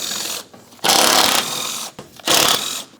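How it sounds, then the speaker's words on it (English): A wrench unthreads the strut mounting nut on a 2004-2008 Pontiac Grand Prix, making two loud close bursts of ratcheting, grinding noise separated by short pauses. "Now I'll unthread that last mounting nut."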